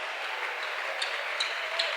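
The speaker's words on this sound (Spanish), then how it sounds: "Dele ese aplauso" Church congregation applauding at a Spanish-language sermon, a steady wash of clapping held at moderate level throughout with no voices standing out.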